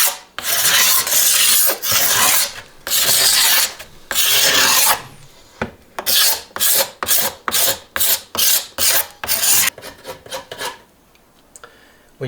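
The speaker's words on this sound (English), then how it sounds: "When you're scraping the sinew off" A knife scrapes sinew off a wooden bow in loud, close rasping strokes, first in long sustained passes, then in quicker repeated short scrapes that fade toward the end.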